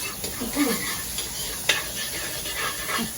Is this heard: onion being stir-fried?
yes